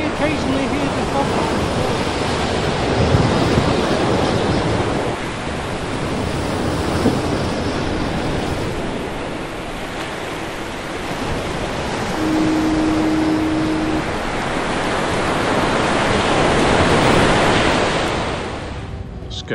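Rough North Sea surf at Scarborough Harbour crashes and rolls continuously on a winter day, a loud, wind-buffeted roar of waves on the shore with no pause.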